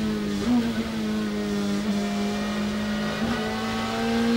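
A BMW and a Porsche race car lap the wet Nürburgring during the 24-hour race, their engines holding a steady, sustained high drone with slight pitch shifts as they rev, loud and continuous.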